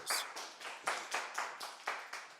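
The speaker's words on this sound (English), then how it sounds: "A round of applause." Slow, separate hand claps from a single person or a few people, about eight sharp strikes in a steady rhythm, quiet and close.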